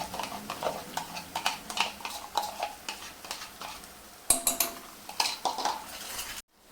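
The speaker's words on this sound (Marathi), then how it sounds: "कांदा आणि टोमॅटो छान मऊ झाले आता एकदा हलवून घेऊया" Softened onion and tomato are stirred in a pan, with a steady series of metallic scrapes and clinks of a spoon against the pan, close and fairly quiet, repeating in an uneven rhythm.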